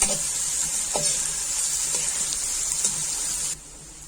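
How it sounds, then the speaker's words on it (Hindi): Garlic paste frying with onions in hot oil for a bhindi (okra) dish gives a steady, close hiss of sizzling with a few soft stirring scrapes, then drops noticeably quieter near the end; no talking. "लहसुन के पेस्ट को भी फ्राई होने देंगे"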